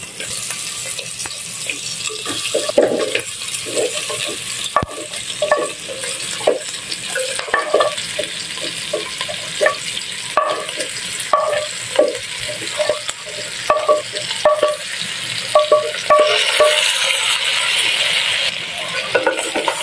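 Pork sautéed in a pan with onion and garlic sizzles loudly and steadily up close, with repeated scraping and clacking stir strokes all the way through and no speech.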